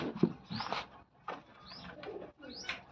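Pigeons cooing close by in a quiet space, three soft rounded coo phrases spaced about a second apart, each rising into a brief upward swoop. The calls come alone and fairly faint, with no talking over them.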